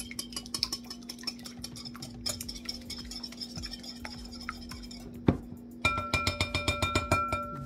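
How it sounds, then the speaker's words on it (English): Eggs whisked in a bowl for red velvet cake batter: close, rhythmic clicking strokes against the bowl that grow quicker and louder toward the end, with no talking. "Now I'm going to give it a nice little whisk"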